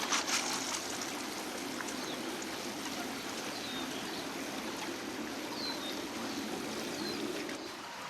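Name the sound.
pond water poured onto a newly planted avocado tree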